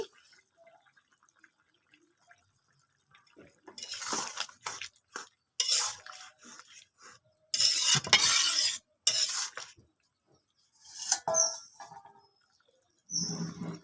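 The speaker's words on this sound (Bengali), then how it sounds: "মাছের রান্না হয়ে গেছে, দিয়ে দেবো বাটা জিরা, আর দিয়ে দেবো কিছু ধনেপাতা কুচি।" Fish curry in a pan being stirred after ground cumin paste and chopped coriander go in, with intermittent bursts of scraping, clinking and bubbling sizzle separated by near-silent pauses, close by and without talking.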